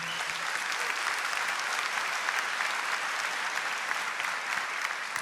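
A congregation at a Catholic mass applauds steadily, a dense, even wash of many hands clapping that holds at the same strength for the full stretch.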